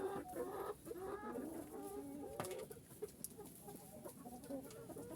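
Hens on a farm clucking and murmuring continuously, several birds close by with a busy, layered chatter and no talk.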